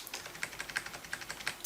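An underscore is typed on a computer keyboard, with a quick, fairly even run of light plastic key clicks close to the microphone and no talking.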